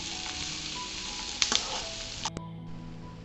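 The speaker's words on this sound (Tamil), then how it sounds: "வெள்ளை பூண்டு அதிலே போட்டு வதக்கிக்கலாம்." Garlic and ginger sautéing in a hot oiled pan while cooking drumstick (murungaikaai) balls, a steady close sizzle with a few brief stirring clicks and scrapes.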